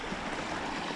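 A full, clear river in the countryside of La Palma, Chalatenango, rushes steadily in summer. The close, loud, even wash of flowing water has no voices over it.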